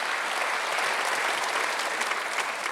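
A church congregation at a Sunday worship service applauding, a dense, steady wash of clapping from many hands that stays even and loud throughout.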